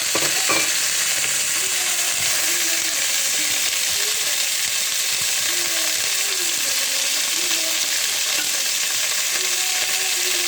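Potatoes added to a pan of sausages and cabbage fry with a steady, dense sizzle close up, broken by a few light stirring scrapes near the start.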